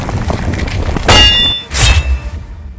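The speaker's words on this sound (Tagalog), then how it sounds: "Tunog ng sandata ni Dakila." Two loud ringing metallic clangs, a weapon striking in an action horror story, each with a bright shimmering ring over a low rumbling background.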